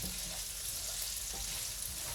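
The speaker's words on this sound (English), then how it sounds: "listening to the ingredients sizzle and pop, especially when you're stir frying" Stir-fry ingredients sizzle and crackle in a hot pan over high heat, a steady dense hiss with scattered small pops, close and continuous with no voices.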